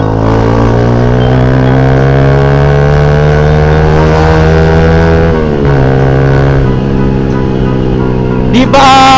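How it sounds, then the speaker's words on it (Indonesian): A loud, steady motorcycle engine drone with a low exhaust note holds throughout, dipping briefly as it shifts pitch, then rising again near the end. "Knalpot ini gimana ya? Seru gitu loh dengernya."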